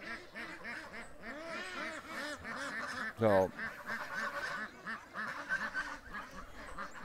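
Ducks on a lake quack and honk almost constantly, a dense, nearby chorus of overlapping calls with one louder honk partway through and a brief spoken word.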